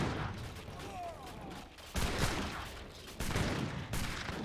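Units in a real-time strategy game open fire in bursts of rapid gunshots, with two sharp volleys standing out over a busy battle mix.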